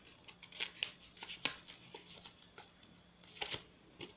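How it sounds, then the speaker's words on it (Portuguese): Scissors snip paper flower petals close up, a series of crisp, sharp metallic cuts in an irregular rhythm, quiet between the snips. "Você pode fazer assim com a tesoura de cada pétala"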